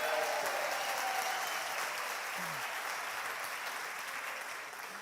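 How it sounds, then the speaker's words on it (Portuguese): Applause from a church congregation at a sermon rises as a wide, even wash of clapping and slowly fades, with faint voices mixed in underneath. "uma salva de palmas para a Penha"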